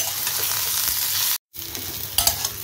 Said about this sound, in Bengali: পটলটা দেখো প্রায় ভাজা হয়ে এসছে অনেকটাই